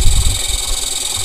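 A homemade motor-generator, an electric motor rebuilt so one coil drives it while the second coil generates voltage as it coasts, runs with a steady low hum and vibration throughout, close and continuous.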